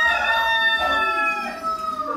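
White Cochin chickens in a breeding pen, a trio of hens with one young cockerel, calling close by in a sustained, wavering crow-like cry with clucking underneath and no talk.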